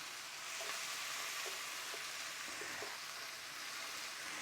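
Cauliflower pieces with a little water sizzle in a pan under a steady hiss, and a utensil stirring them adds soft scraping knocks. The scrapes are spaced irregularly and sound close.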